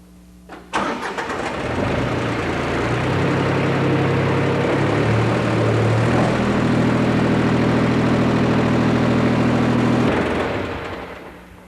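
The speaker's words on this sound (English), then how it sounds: "Now let's start the tractor and see how this adjustment works." A 1989 Case IH 200 Series tractor with a mid-mount mower cranks and catches, then runs at a steady, loud idle for several seconds before cutting off.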